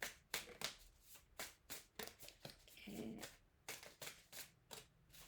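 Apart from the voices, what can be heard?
shuffling tarot cards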